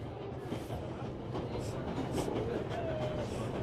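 A train rolls along in the video game Memories Retold, a steady low rumble with faint rail clatter continuing under game ambience throughout.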